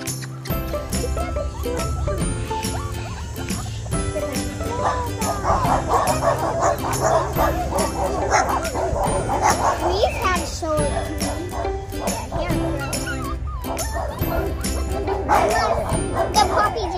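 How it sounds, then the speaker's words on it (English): West Highland White Terrier puppies bark and yip again and again at close range. Children's voices and playful chatter run alongside the barking throughout. "I hear dogs barking."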